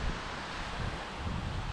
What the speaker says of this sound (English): The waterfall down here is so cool